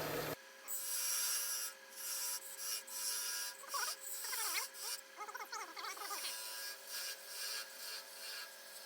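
Wooden muddler stick being parted off on a lathe: a faint whirring hum with a thin rubbing, scraping cutting tone that wavers and squeals intermittently, fairly distant and quiet.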